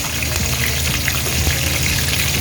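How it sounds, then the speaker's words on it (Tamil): Green chillies fry in hot oil in a pan while an onion chicken gravy is being made, giving a steady, close, loud sizzle with fine crackling and no pauses. "பச்சை மிளகா நல்லா பொரியணும்னு அவசியம் இல்லை, லைட்டாக பொரிஞ்சால் போதும்"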